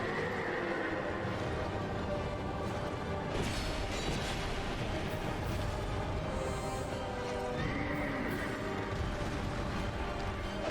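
A horse neighs and whinnies amid the Executioner's Chariot boss fight in Dark Souls II, with game combat clatter and mechanical rumble playing continuously and fairly loud, and no talking.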